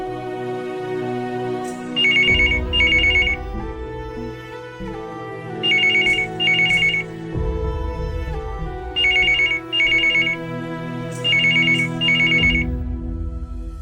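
A landline telephone in a Tamil TV serial rings in four evenly spaced double-burst trills over a sustained background music score, loud and close, with no speech.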